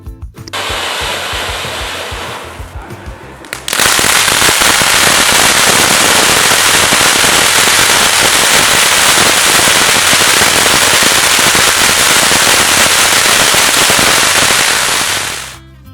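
A long, dense barrage of Diwali firecrackers crackles loudly and continuously for over ten seconds after a shorter burst at the start.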